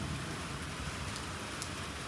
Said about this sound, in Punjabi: ਇਸ ਤਰ੍ਹਾਂ ਮੀਂਹ ਪੈ ਰਿਹਾ